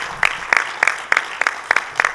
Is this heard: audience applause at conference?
yes